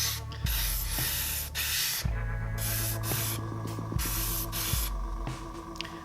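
An airbrush sprays base coat paint onto a large 1/8th scale Batman statue in short hissing bursts, close up, with brief pauses between passes and a faint mechanical hum underneath.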